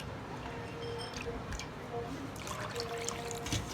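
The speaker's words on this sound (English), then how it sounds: "First of all, add 2 cups of water." Water poured from a cup into a bowl while making yoghurt, a soft steady trickle with small splashes, close and fairly quiet over low background noise.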